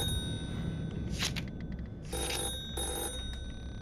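A telephone rings in a horror video game, set in a dark house with something following the player, sounding two loud electronic ring bursts with a pause between them over a low droning ambience.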